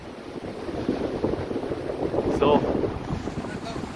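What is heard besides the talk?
strong wind on mountain trek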